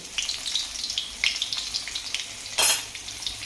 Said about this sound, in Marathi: चला आता छान लसूण आणि जिरी तडतडून देऊ मस्तपैकी फोडणी बसली की